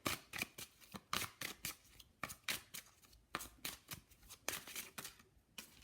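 Witch's Wisdom oracle cards shuffled and handled close by, a steady run of crisp riffling snaps and slaps in quick irregular bursts, with no talking.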